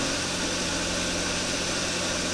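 A 2011-2016 Kia Sportage engine idling after a remote start, a steady, even rumble with a constant hiss, heard up close and alone.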